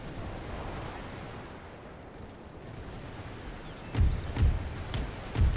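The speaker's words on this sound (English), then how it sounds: "that pistol shot only took out 6 of our men" A distant rumble of battle fire in a Great War era strategy game is followed by several sharp, low booming shots near the end, fairly faint overall.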